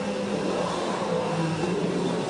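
A Formula 1 car at Interlagos during 2017 Brazil Grand Prix practice, heard as a steady, loud engine whir and roar throughout, with no clear shift in pitch, as it slows into the pit lane.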